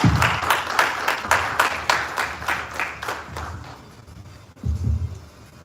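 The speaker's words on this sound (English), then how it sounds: "Please, let's give him a round of applause." An audience at a live climate policy event applauds a speaker, a dense wash of many hands that gradually thins and fades, with a short burst of talk near the end.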